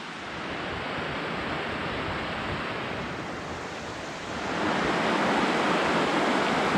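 A mountain river or stream rushing beside a rocky slab descent below An Teallach, a continuous broadband watery roar that grows louder toward the end, with light wind noise and no speech.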